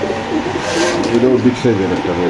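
Pigeons coo in soft, repeated rolling calls at a crowded pigeon sale, with voices talking close by throughout.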